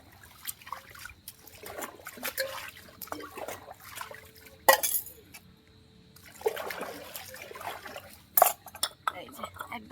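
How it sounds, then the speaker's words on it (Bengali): Dishes are washed by hand at a home tap on a rainy morning: cutlery and pots clink and clatter while water trickles and splashes in close, uneven bursts, with someone talking over the work. "তোমাদের সাথে গল্প করতে করতে হয়ে গেল আমার বাসন মাজা"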